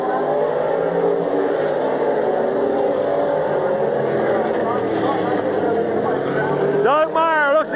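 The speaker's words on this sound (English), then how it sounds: "Mario Kelly and 64 out there racing" Race cars run at Midvale Speedway in 1999, a continuous loud engine roar drifting in pitch as they circle, with a public-address announcer calling the race over it and a sharp rising whine near the end.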